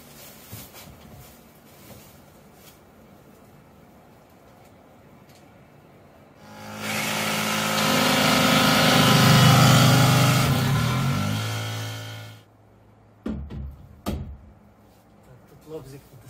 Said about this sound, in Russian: Лобзик не достает немного